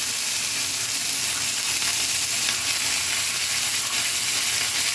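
Onions frying in bacon fat in a pan for a lentil beef pot roast, giving a steady, close, even sizzle that crackles continuously throughout without a break.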